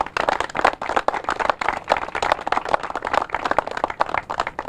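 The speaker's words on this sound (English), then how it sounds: "So a round of applause, please." A small audience at a press conference at the southern border claps in a round of applause, sharp individual claps close by forming a busy, uneven patter that holds steady throughout with no talk.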